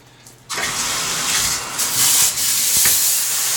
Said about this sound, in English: It's my new LED shower head.